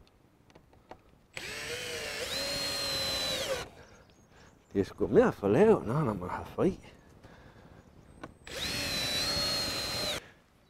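A cordless power drill bores into wood during wilderness bridge building, its motor whining in two sustained, close bursts of about two seconds each with slight pitch shifts. Someone speaks briefly between them.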